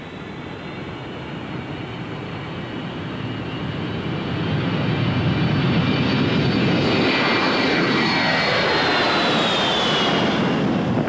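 An E-3 Sentry's jet engines on takeoff give a loud, steady roar with a high whine on top, swelling in strength partway through and then holding, with no voices.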